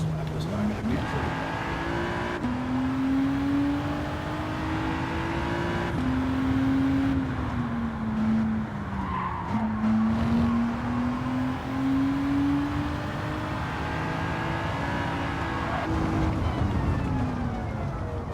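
A Nissan 300ZX's engine drones and revs through a racing lap, its pitch climbing steadily through each gear and dropping sharply at every shift, loud and continuous for the whole stretch.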